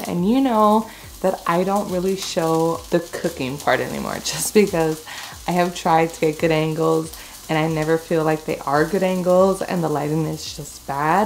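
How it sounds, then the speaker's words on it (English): Chicken breakfast mini links sizzle and fry in a pan, a steady crackling hiss running continuously beneath someone talking throughout at close range. "You can probably hear the sizzling in the background"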